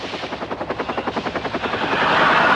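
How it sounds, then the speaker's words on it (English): A helicopter arriving, its rotor thumping in a fast regular beat that grows louder and turns into a broad roaring wash as it comes close. "What is that? Daddy's chopper, he's here."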